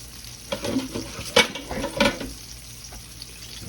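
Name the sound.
pork steaks frying in hot oil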